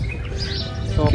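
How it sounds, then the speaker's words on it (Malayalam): Birds chirp briefly near a pond with water lilies beside a love lock bridge in Dubai, with faint high tweets over a low background hum. "ഇവിടെ കിളികളുടെ നല്ല സൗണ്ടുകളുണ്ട് അല്ലേ"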